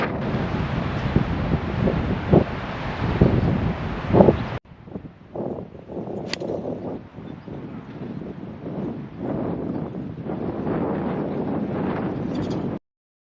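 High wind on a golf course rumbles and buffets against the microphone in gusty bursts, loud and close with rustling, easing briefly before picking up again.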